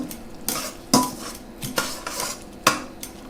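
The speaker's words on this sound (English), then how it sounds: "Give that a little stir." Utensils scrape and clink against a pan while stirring tofu in sauce, in several uneven strokes, a few sharper knocks standing out, with no talking.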